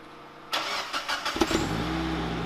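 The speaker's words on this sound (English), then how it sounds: "So this is what Trystan's car sounds like with no washers in the exhaust." A turbocharged Mazda MX-5 with no washers in the exhaust cranks and fires up close by, giving a few sharp bursts before settling into a low, steady idle.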